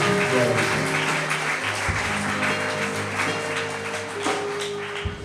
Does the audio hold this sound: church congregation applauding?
yes